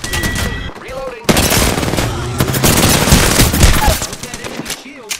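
Gunfire in Apex Legends: loud, dense bursts of rapid automatic fire and single shots crowd the soundtrack, with brief pauses and game voice lines mixed in.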